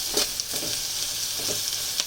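Onions fry in oil until reddish, a steady broadband sizzle with a few soft stirring scrapes at regular intervals, close and fairly loud, with no talking.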